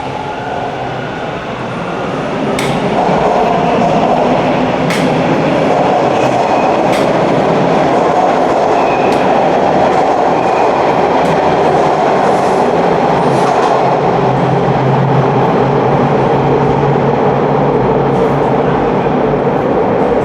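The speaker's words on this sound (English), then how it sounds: "I believe I just missed a westbound train." A westbound Toronto TTC subway train runs through a station, its loud rumble building in the first seconds and then holding steady, with clicking wheels and scattered sharp metallic clacks over the roar.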